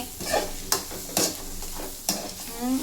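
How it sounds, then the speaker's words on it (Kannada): Steady sizzle of a pan frying after roasted garlic goes in, for a village-style broad bean, sago and fenugreek greens bassaru, with several sharp stirring scrapes spaced through it, close up and without speech. "ಎಷ್ಟು ಚೆನ್ನಾಗಿ ಈ ಥರ ಫ್ರೈ ಮಾಡಿಕೊಂಡು ನೀವು ಮತ್ತೆ ಸುಟ್ಟಿರೋ ಬೆಳ್ಳುಳ್ಳಿ ಹಾಕಿ"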